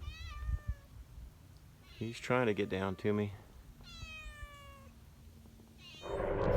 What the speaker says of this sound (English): we got a hungry little kitten